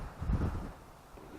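Gusty outdoor wind buffeting a microphone, a low rumbling roar that swells loudly early on and then eases to a steadier, softer rush, with no talking.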